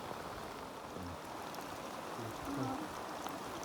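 Steady rain falling over a rice field on a windy, overcast day, a soft continuous hiss heard from outdoors, with faint low sounds and a brief tone poking through the wash.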